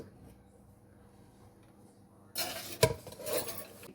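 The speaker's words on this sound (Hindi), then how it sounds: "अब हम इस पर एक प्लेट ऊपर उल्टी रखेंगे और रख के इसको हम पलटेंगे" A plate set upside down on a glass dish of crystal jelly pudding and the dish flipped over, heard as a sudden close clatter of ceramic and glass with a sharp knock, then scraping and shifting after a quiet start.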